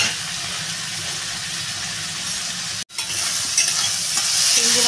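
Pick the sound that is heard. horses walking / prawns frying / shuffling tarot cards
prawns frying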